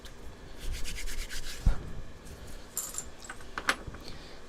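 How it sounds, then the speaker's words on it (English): Dried glue is rubbed off a silverware-handle refrigerator magnet, producing a soft, continuous scraping rub, a single thump, and then lighter metallic clinks, close and without talk. "what's nice is this stuff rubs off pretty easy"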